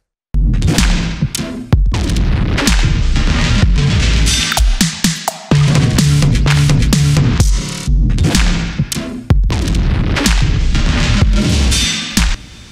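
Experimental electronic music by an artist based in Maryland, USA: dense, loud, continuous layers of booming, crackling bursts and abrupt cuts, with brief gaps and sudden shifts in texture across the whole stretch.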